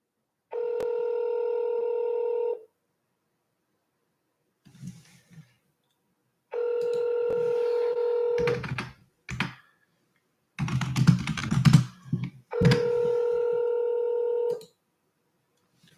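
Telephone dialing a number, with sustained tonal beeps in three long stretches separated by bursts of clattering, button-pressing noise, close and clear.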